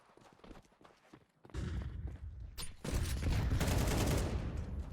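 Gunfire rattles in an esports match of a competitive shooter video game: sparse pops at first, then sustained loud bursts of shots and blasts fill the rest, with no commentary over it.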